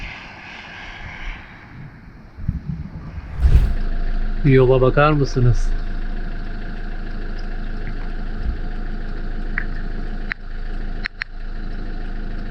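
Cars revving hard as they climb a steep, winding mountain road near the Flåm fjord in Norway, a steady engine drone rising and holding under a person speaking.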